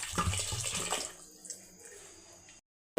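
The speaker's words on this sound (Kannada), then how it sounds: "ನೀರು ಹಾಕ್ಕೊತಾ ಇದ್ದೀನಿ." Water splashes into a cooking pot before pressure cooking a greens sambar, a brief close pouring gush that tapers off and stops abruptly.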